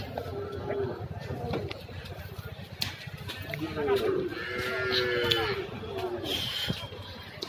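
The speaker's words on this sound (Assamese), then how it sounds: "গ'লোঁ এইফালে গৰু বজাৰ, বহুত মানুহ আছে।" A busy weekly cattle market in Assam, with a steady crowd murmur and continuous chatter throughout. Animal bleats or calls rise now and then above the din, and a nearby voice talks over the scene.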